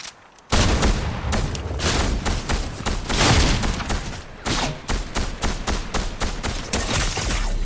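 Rapid video game gunfire rings out loud and close in dense bursts of sharp shots, a near-continuous fusillade after a brief silent start.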